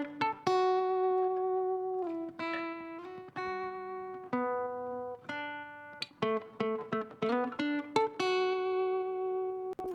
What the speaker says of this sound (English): So if we listen to this guitar sound from a track